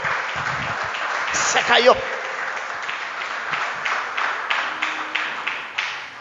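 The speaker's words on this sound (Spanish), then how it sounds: "Dele un aplauso fuerte al Señor" Applause for the Lord in a church service, a room of people clapping in loose, uneven rhythm, with a voice speaking briefly over the start before the clapping continues on its own.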